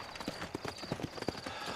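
Horse hooves clip-clop at a steady trotting rhythm in the Red Dead Redemption video game, close and clear over a dense background of ambient game sound.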